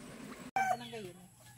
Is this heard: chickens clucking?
yes